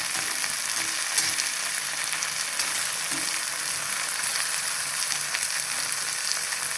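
Coriander leaves and small stems frying in a pan, a dense steady hiss of sizzling oil that holds at an even level throughout, with faint occasional stirring underneath and no talk.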